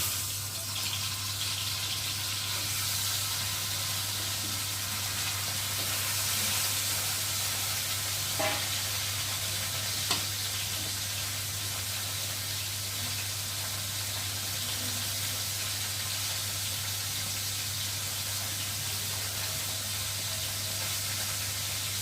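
Fish pieces fry in hot oil in a home kitchen with a steady, even sizzle that runs unbroken throughout, plus a low constant hum and a couple of faint clicks.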